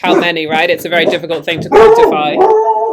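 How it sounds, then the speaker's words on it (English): A dog barks and yips close by in a home during a conversation, the short barks mixed in with steady, continuous talk. "Sorry, that's my dog."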